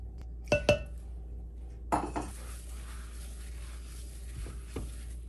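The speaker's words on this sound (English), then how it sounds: "So I have 3 cups of Quaker quick oats here and 2 sticks of butter that I have melted. We're gonna mix those together to start." Three cups of Quaker quick oats and two sticks of melted butter are mixed in a bowl. A spoon clinks and scrapes against the bowl in a few sharp knocks, then softer stirring follows, with no talking.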